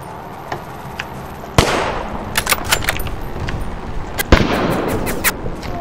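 Sniper rifle shots from the WW2 shooter game H-Sniper: a loud sharp report near the start and another later, with fainter scattered cracks and pops in between over a steady background.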